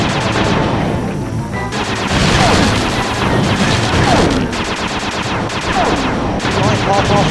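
Turret gunfire in the Sly 2: Band of Thieves video game, a steady loud barrage of rapid shots and crashing impacts running throughout, with bursts of heavier blasts.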